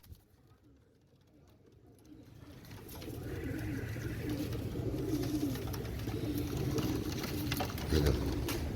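Royal Teddy pigeons coo softly in a loft, low rounded murmurs that swell after a quiet start and continue under a steady background hum, with no talking.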